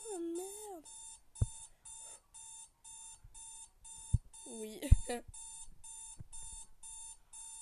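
A video game alarm clock rings in steady repeating beeps, interrupted by a few sharp thumps while someone talks briefly over it.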